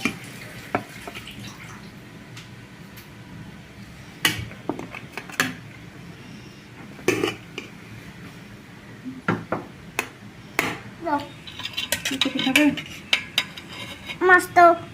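Pots, cooking vessels and dishes clink and scrape as rice is served from a large pot at a home meal, with irregular metallic taps and clatters growing busier and louder toward the end.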